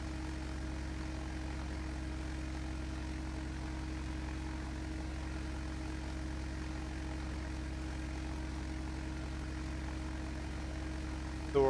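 Douglas C-47 piston propeller engines droning in flight within a flight simulator game, a constant steady hum with strong low tonal layers holding evenly throughout and no talk over it.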